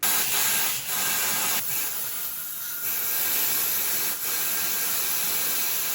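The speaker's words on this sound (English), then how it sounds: "just use my epoxy in the cup, and we're just going to use this to get inside all of the sill" Spray gun applying thinned epoxy primer inside the sill of a BMW E36 under restoration, a steady close hiss that runs continuously with a few brief dips as the trigger eases.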